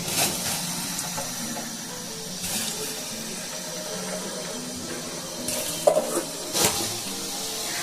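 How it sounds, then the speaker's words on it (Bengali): Soaked rice, left to soak about an hour, frying in a pan with two bay leaves, giving a steady soft sizzle with occasional stirring scrapes and a few louder knocks near the end. "তখন এই চালগুলো আমি দিয়ে দেবো।"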